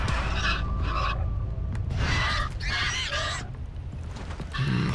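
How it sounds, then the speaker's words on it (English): Caged birds screech and squawk in the video game Far Cry 3, several harsh, shrill bursts in quick succession over a steady loud ambient hum. "Stop screaming, bird."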